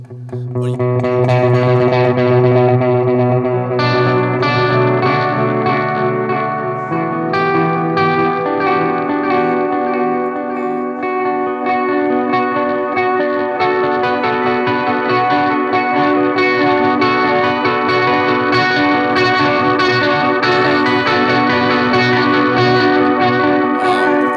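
Tapped electric guitar runs through a touch-sensitive effects pedal, giving a loud, sustained ambient wash of layered notes with heavy reverb, echo and chorus, alone without talk.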